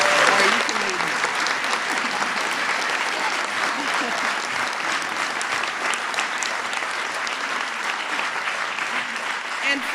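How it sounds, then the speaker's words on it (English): Sustained audience applause fills the hall at an awards or recognition gathering, a dense, steady clatter of many hands clapping continuously for the full length without pause. "let's give them a round of applause"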